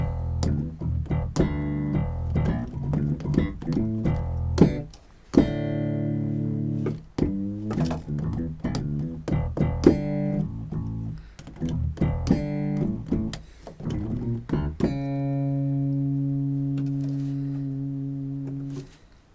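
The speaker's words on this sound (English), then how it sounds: "Another bass sound." Deep electronic bass notes pulse in a syncopated riff, punchy and close, ending on a long sustained low note with no voices.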